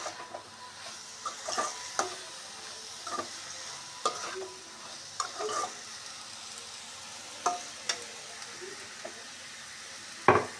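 Ash gourd peel with grated coconut stir-frying in a pan, a soft background sizzle broken by a dozen irregular scraping stirs of a spatula against the pan.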